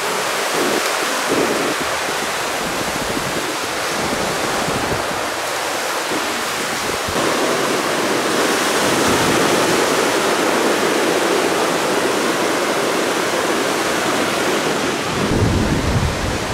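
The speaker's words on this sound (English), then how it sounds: "We made it to the ocean." Ocean waves breaking on the shore at Scheveningen, a steady, loud wash of surf with strong wind noise buffeting the microphone throughout, no voices.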